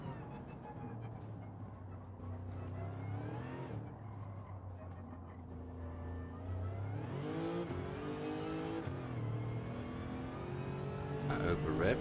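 A Lexus in a racing video game revs hard and over-revs, its engine note climbing and falling in repeated sweeping surges with tire noise, fairly faint and steady across the run.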